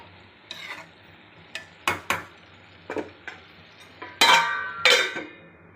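Food frying in a pan with spices mixed in, stirred in short bursts: scraping, sizzling strokes arrive irregularly, with clusters near the end, over a low background hum.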